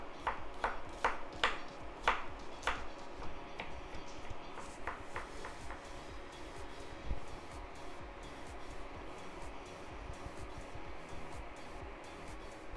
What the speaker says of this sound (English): And I'm going to basically just chop these up pretty finely.